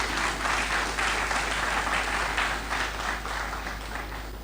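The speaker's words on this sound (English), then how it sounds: "Please let us give her another round of applause." An audience at a mental health awareness conference applauds in a sustained, even round of clapping that tapers slightly, with a low steady hum beneath it.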